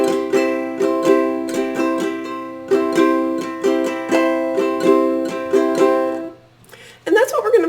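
Ukulele strummed in a steady down, down, up, down, up pattern, bright chords repeating evenly for several bars before the strumming stops and a short burst of other noise follows.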